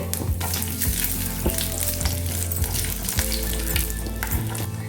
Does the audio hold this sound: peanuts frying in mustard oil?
yes